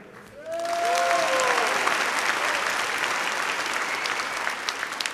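A large conference audience at an opening ceremony bursts into sustained, loud applause, with a few whistles near the start before the clapping holds steady.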